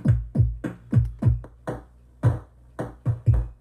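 A gritty, low-fi beatbox loop on an 8-bit WTPA2 sampler slows to a half-time feel, with deep thumps and sharp clicks spaced unevenly, up close with no talking.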